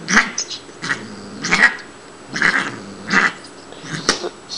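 A female Siamese cat, about four years old, vocalizes during play in a series of five or six short, loud, close calls spaced roughly a second apart, with no talk.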